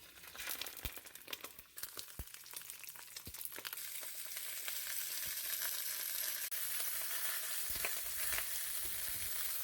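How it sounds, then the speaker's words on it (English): Bratwursts go into olive oil in a pot and sear, with quiet crinkly handling clicks first, then a rising, steady sizzle that settles into a continuous soft frying hiss. "Now we're going to add our olive oil to our pot and start adding our brats to sear them."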